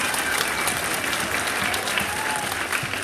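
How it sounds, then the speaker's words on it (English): Dense audience applause at an awards ceremony, a steady wash of many hands clapping at moderate distance, continuous for about three seconds without break. "Please give them a round of applause."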